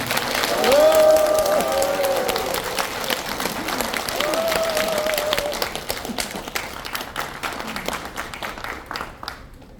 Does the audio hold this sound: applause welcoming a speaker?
yes